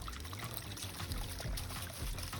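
An icy stream on the Appalachian Trail pours and trickles close by in a steady, splashing flow, brief and continuous with no voices.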